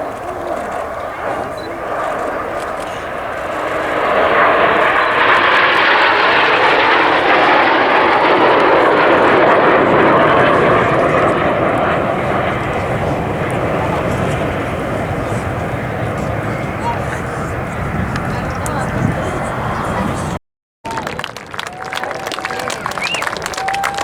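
RAF Red Arrows jet aircraft roaring past at an air show in the USA, a loud broad rushing jet noise swelling and slowly fading, with commentary and crowd sounds underneath.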